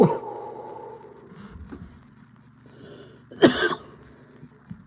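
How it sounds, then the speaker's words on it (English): A person coughs, with a short rough cough at the start and a louder, harsher cough near the end, separated by quiet breathing. "The only reason I coughed was because I tried to talk while taking it."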